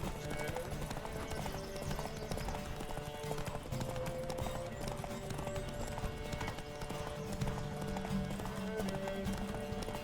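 Horse hooves gallop in a race in The Witcher 3: Wild Hunt, a rapid, steady clip-clop rhythm running throughout alongside game music and occasional faint voices.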